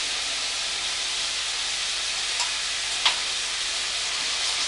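Pork stir fry with light soy sauce sizzles steadily in a hot pan, a constant close hiss with a couple of brief spitting pops and no talk.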